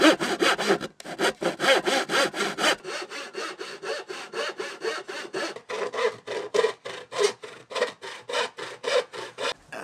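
Hand saw cutting back and forth through a wooden board, a steady run of rapid rasping strokes, close and loud, with a brief pause near the start before the sawing resumes.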